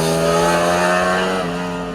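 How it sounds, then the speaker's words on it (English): An 1100cc V4 motorcycle engine producing 214 horsepower revs hard and close, a loud, steady, harmonic-rich roar held for about two seconds before easing off slightly. "this 1100cc V4 engine makes 214 horsepower"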